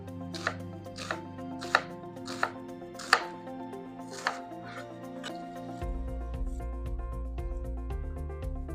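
A knife chops onion on a board for a cheesy potato gratin: six or seven crisp, evenly spaced cuts up close, followed by a low steady hum with faint ticks.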